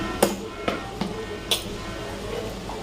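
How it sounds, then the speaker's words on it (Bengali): Ginger, garlic and green chillies being pounded into paste, four distinct thuds spaced about half a second apart, close and moderately loud, then a quieter stretch with faint background noise. "যে আদা রসুন ছাড়িয়ে নিলাম, কাঁচা লঙ্কা নিলাম, এর মধ্যে কয়েকটা একদম বেটে নিই বেশি করে"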